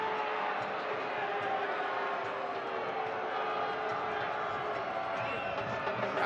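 A restless football crowd murmurs and calls out at a Louisville City FC stadium, a steady, dense wash of voices heard from a distance for the whole stretch.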